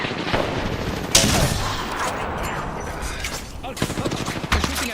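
Automatic gunfire in Apex Legends rattles in loud rapid bursts throughout, with sharp cracks and short pauses, close and dense.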